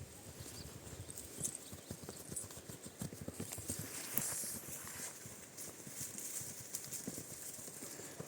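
Horse hooves clip-clop in an irregular walking rhythm, fairly close, with faint background noise and a brief high sound partway through, in Kolomyia district, Ivano-Frankivsk region, Ukraine.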